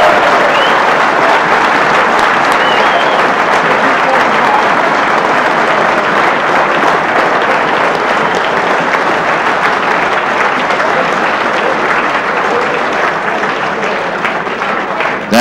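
Sustained, loud applause from a snooker crowd at the St. Philip's Club rises and holds steady for the full stretch, dense clapping without pause as Welsh player Ray Reardon takes the Park Drive 600 title.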